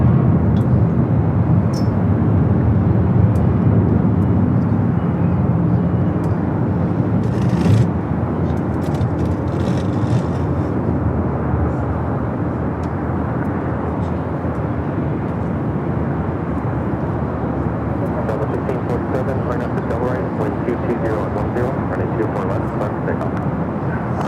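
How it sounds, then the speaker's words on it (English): An Airbus A321 jet roars steadily as it rolls for takeoff on runway 24 left at LAX, a loud, broad rumble that holds and then eases slightly. Airport ambience surrounds it. "Then A321 rolling down to 24 left. A lot louder than that"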